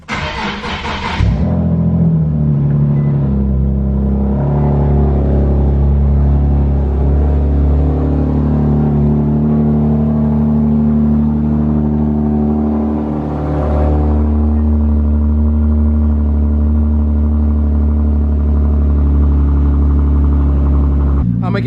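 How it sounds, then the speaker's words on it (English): An Audi S-line fitted with an AAM competition midpipe exhaust cold-starts with a sharp crank and loud flare, then settles into a deep, steady, rumbling idle with a brief rise partway through, while a voice talks nearby. "It's gonna be one last cold start before we put the stock muffler back on."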